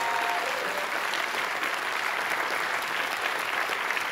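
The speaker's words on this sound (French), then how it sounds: "On peut l'applaudir." An audience at a local quiz show final celebrating a twenty-year anniversary applauds steadily, a dense, even clapping throughout with no clear voices.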